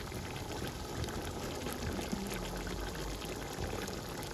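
Mackerel and tuna are tipped into a bubbling pot of okra stew, giving a steady, close wash of pouring, simmering and liquid sloshing with no clear pauses.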